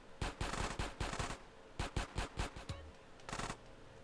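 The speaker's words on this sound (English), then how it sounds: "Ooh, an assault rifle?" AK assault rifle fire in GTA San Andreas Definitive Edition rings out in several loud, sharp automatic bursts of rapid cracks, separated by brief pauses, ending with one short final burst.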